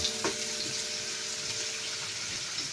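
Pork binagoongan fries in a pan with a constant close sizzle while a utensil stirs it, giving a short scraping knock near the start against the steady hiss.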